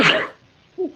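A single short, sharp sneeze bursts out close to the microphone, followed after a brief pause by a faint voiced sound.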